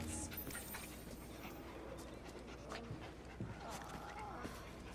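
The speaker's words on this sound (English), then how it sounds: "Is your dog quite all right?" A dog named Desmond pants in Assassin's Creed Syndicate, soft rhythmic breaths close by under game voices and steady background ambience.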